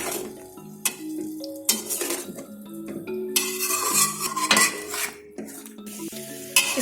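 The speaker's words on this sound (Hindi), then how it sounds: "इसको अच्छे से मिक्स कर लें।" A pot of achari gosht (spiced meat) stirred with a metal spoon, steady scraping and clinking strokes against the pot with a light sizzle underneath, close and moderately loud.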